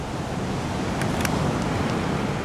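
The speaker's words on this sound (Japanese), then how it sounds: "波来てる。" Ocean waves break at a beach in Minami Boso, Japan, during a surf session. They make a steady, full roar of surf, mixed with wind buffeting the microphone, and no one speaks.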